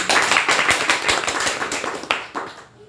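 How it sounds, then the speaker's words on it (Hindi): A short burst of dense applause from an audience at a marketing program, many hands clapping together loudly and tapering slightly at the end. "आपके लिए एक बार ज़बरदस्त ताली बजा ली"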